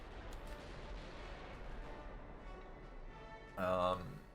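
Naval guns firing at an enemy battleship in Ultimate Admiral: Dreadnoughts, heard as a steady background rumble with one louder, sharper boom near the end, while a person talks throughout.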